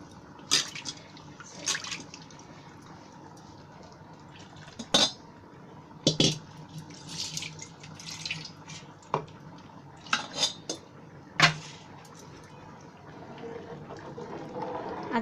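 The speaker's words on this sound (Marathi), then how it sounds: "पहिले मी भांडं जरा धुवून त्याच्यामध्ये पाणी ओतते" A pot is rinsed and filled with water in a home kitchen while preparing pani puri water, with scattered clinks of metal utensils and splashing in short bursts over a quiet background, no talking.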